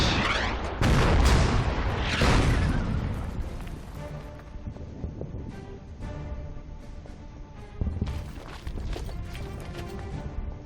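Heavy artillery booms from the strategy game Order of Battle: Blitzkrieg, two loud blasts early rolling into a long fading rumble, then a fainter report near the end, with no speech.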